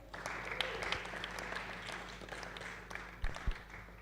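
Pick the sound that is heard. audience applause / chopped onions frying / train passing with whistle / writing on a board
audience applause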